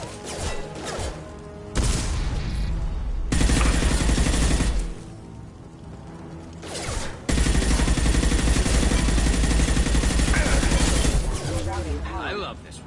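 Rifle fire in the Mass Effect video game comes in several loud, rapid automatic bursts separated by brief lulls, with crashing combat noise throughout.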